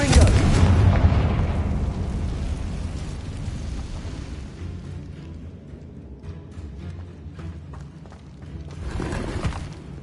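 A Confringo fire-blast spell explodes in Hogwarts Legacy, a loud booming burst right at the start that rumbles and fades, followed by scattered crackles and a second swell near the end.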